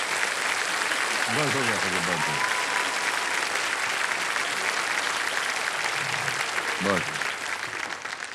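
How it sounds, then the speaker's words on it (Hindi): A studio audience on a game-show set claps loudly and continuously throughout, a dense close wash of applause with brief speech over it. "ताली बजा रहे हैं इतनी जोर से तुम्हारे लिए"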